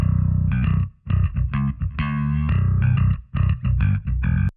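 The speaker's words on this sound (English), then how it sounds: "Compared to the one with hardly any distortion." A distorted, buzzy electric bass plays a run of short notes, loud and gritty, with brief gaps between phrases.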